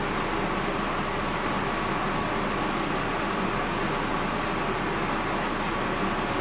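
Air conditioning runs inside a Jayco Jayfeather 25RB travel trailer, a steady, even whooshing hum that holds without change and with no voices.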